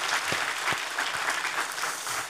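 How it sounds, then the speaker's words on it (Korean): Applause from a church congregation at an Easter service, a steady dense wash of clapping from many hands sustained throughout, moderately loud with no voices on top. "영광의 박수를 하나님께 드리십시다"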